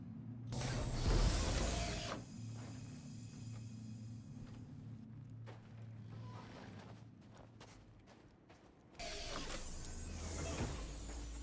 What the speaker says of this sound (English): Let's turn off the engines.